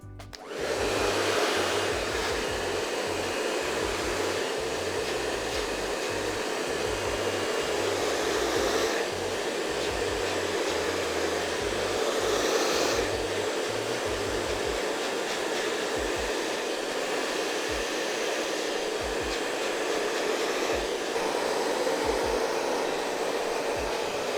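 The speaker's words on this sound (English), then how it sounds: "pop it on like a medium speed as opposed to the fast, just so you've got a bit more time to use your fingers to dry it through" Hair dryer running at medium speed, steady and close, blowing through a man's hair during a men's haircut and style session, a continuous whooshing motor drone with a low rumble at first that eases off midway.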